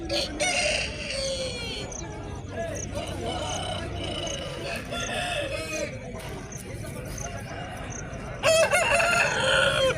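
A rooster crows loudly nearby at a poultry market in Nallapadu, with clucking and other fowl calls around it and a second crow rising near the end.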